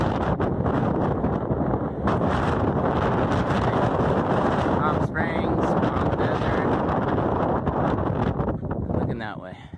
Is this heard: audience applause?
no